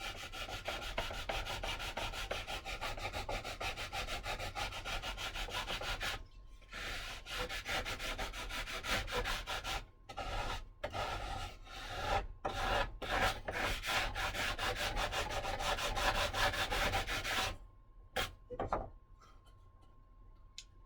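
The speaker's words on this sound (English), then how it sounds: "I'll sand some of this in." Sanding repairs on a fuselage mold: a rapid, loud, rhythmic rasp of strokes goes on with brief pauses between bursts, then tapers off near the end, with no talking.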